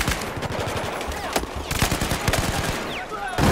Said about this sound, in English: He does have a light machine gun, which is nice.